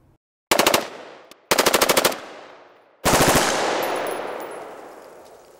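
A Steyr AUG rifle converted to fire 9mm, with its bolt and barrel swapped and a 9mm magazine fitted, lets off three loud, rapid bursts of automatic fire. Each burst rings out into a long echoing decay.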